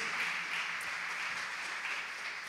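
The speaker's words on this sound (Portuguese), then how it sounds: "vamos aplaudir ao Senhor" A congregation in a church applauds continuously, a soft, even wash of many hands clapping at a distance, with no voices over it.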